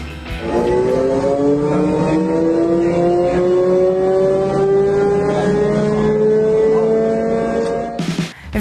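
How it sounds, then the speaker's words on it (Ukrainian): An Abrams tank's gas turbine engine accelerates with a loud, steady rising whine and harmonic tones climbing smoothly in pitch over several seconds, close and continuous, ending abruptly. "Танк розганяється до 30 км за годину за 6 секунд."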